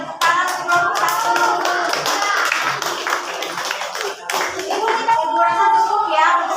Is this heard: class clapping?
yes